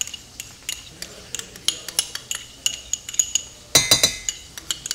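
Parsley sauce being warmed in a pan, with a spoon clinking and tapping against metal in an irregular rhythm, close and fairly loud, and a denser cluster of clatter near the end.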